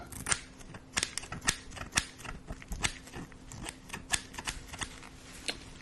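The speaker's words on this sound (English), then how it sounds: "I'm just going to cut off the end of that with these" Quiet, sharp snipping clicks of scissors cutting, repeated irregularly in a series of crisp snips close by, with no talking.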